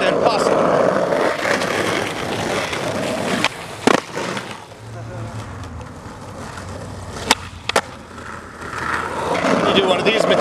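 Skateboard bo spin trick: board wheels roll and scrape on pavement, with sharp clacks of the deck popping and landing in quick bursts, close and loud over steady rolling noise.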